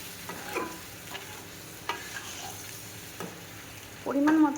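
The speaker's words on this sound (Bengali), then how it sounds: "এবার আমি পরিমাণ মতন জল দিলাম।" Potato and pumpkin curry with green chilli sizzles softly in a pan while a spoon stirs it in a few scattered scrapes, then water pours in with a louder rushing splash at the end.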